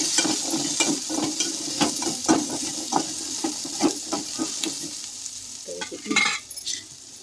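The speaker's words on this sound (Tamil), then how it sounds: "மசால் பொடி பட்டை சோம்பு பொடி எல்லாத்தையும் வதக்கணும்" Masala powder, cinnamon and fennel powder sautéed in a pan for paneer kuzhambu, with repeated close spoon scrapes over a steady sizzle that thins out toward the end.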